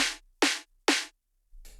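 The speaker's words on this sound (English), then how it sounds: "This is the snare that it sounds on itself." A snare drum played on its own: three crisp, loud hits at a steady pace, each with a short noisy rattle, then a softer fourth hit.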